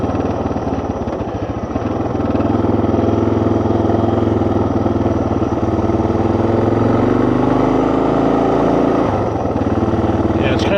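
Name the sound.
2024 Suzuki DR 650 motorcycle engine revving off idle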